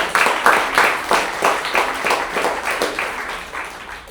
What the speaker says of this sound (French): Ok, merci, vous pouvez vous applaudir.